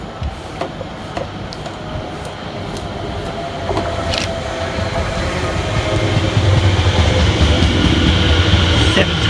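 A Greater Anglia passenger train on the Great Eastern Main Line passes with rhythmic clattering of wheels over rail joints, growing louder and steadier as it draws near, with faint talk in the background.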